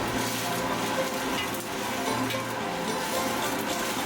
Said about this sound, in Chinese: 锅中水开了，就把杏鲍菇倒入锅中，用炒勺轻轻推匀